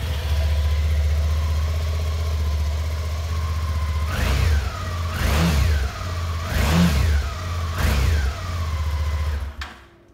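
A 2016 Suzuki V-Strom motorcycle engine idles steadily, then gets four sharp throttle blips in a row before cutting off abruptly, heard up close with no talking.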